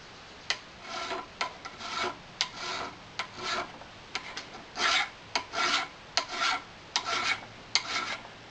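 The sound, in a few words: trimming brass off a king pin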